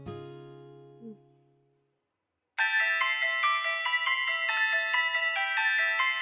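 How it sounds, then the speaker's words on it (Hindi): A bright electronic phone ringtone starts after a fading chime and a short silence, then plays a rapid repeating melody loudly and steadily. "पापा का फोन है, मैं आपसे थोड़ी देर में बात करती हूँ।"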